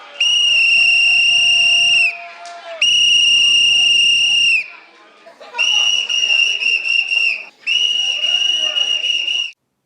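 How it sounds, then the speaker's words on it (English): A shrill whistle is blown in four long, loud blasts separated by brief gaps. "generally, he blew a whistle"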